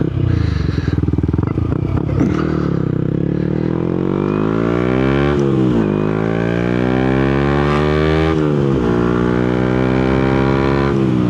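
A Yamaha MT125 motorcycle is ridden and accelerates hard through several gears, its engine note climbing in pitch, dropping briefly at each shift and climbing again, loud and close throughout.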